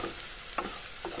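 Ground coriander and cumin spice frying in a pan for a chicken curry with brinjal, with a soft, steady sizzle and a couple of brief scrapes as it is stirred.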